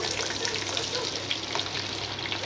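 Tandoori chicken fries over a medium flame in a pan, giving a steady, close, even sizzle and crackle with no talking.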